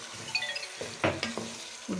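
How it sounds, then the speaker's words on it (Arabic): Onions frying in olive oil for Palestinian musakhan give a soft sizzle under a handful of distinct knocks and scrapes from stirring, fairly quiet and close, with no one speaking. "لما خدلنا البصل شوية بنكمل كمية زيت الزيتون"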